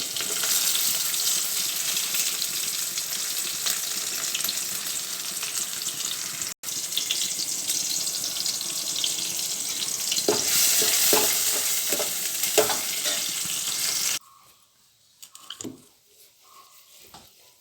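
Curry leaves and chopped tomato hitting hot oil for a buttermilk rasam tempering, a loud continuous sizzle with clinks of stirring, then dropping sharply to quiet with a few scattered taps near the end.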